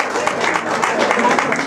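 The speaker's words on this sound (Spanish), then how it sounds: "Vamos a darle un aplauso a Pepe y a Irma, su esposa." Brief audience applause from a crowd at Lomita Park, a dense, continuous wash of clapping that is loud and close and runs for a short burst.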